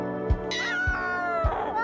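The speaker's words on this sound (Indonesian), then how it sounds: "Video POV ini pula menunjukkan bagaimana seekor kucing bergelut dengan kucing lain." Two cats fight, caught up close by a camera worn on one of them: loud, drawn-out yowling and caterwauling broken by three sharp thumps of scuffling, with no speech.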